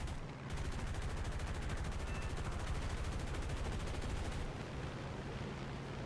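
Rapid 20mm aircraft cannon fire in the War Thunder flight game, a dense, continuous rattling burst lasting about four seconds over steady engine drone, loud and close before cutting off.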